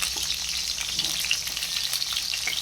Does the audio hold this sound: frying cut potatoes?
yes